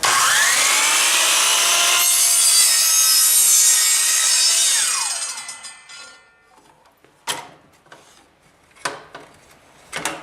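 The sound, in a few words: miter saw cutting baseboard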